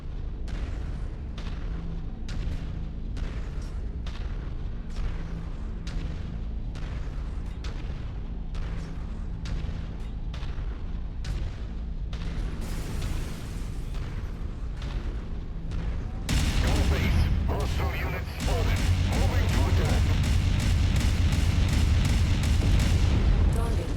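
Quad AC/5 rapid-fire autocannons in the MechWarrior video game fire in a loud, rhythmic burst of heavy booms, then give way to a denser, sustained roar of weapon noise with explosions.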